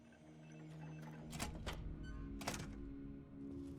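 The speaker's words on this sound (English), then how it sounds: "Yeah, we're just gonna reload." Weapon reload in Fallout: New Vegas, a few sharp mechanical clacks and thunks over steady game background hum, with two prominent metallic hits about a second apart.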